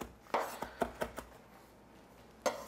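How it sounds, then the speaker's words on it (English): A knife minces parsley on a board over garlic and lemon zest, five or six sharp close chops in an uneven rhythm, then a pause and one final chop, with no talking. "roll up in a tiny ball and mince it right over your garlic and your lemon zest"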